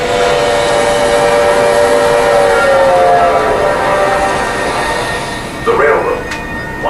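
A long train of 34 heavily loaded freight cars rolls steadily along the rails, a loud continuous rumble with ringing metallic squeal tones and a brief brighter clank near the end.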